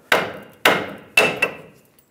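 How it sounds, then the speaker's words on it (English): Three sharp metallic hammer taps on a tie rod end of a 2007-2013 Chevy Silverado 1500 ring out, evenly spaced, followed by a quicker fourth lighter tap, each decaying briefly. No voices. "just use a hammer. Just give it a tap."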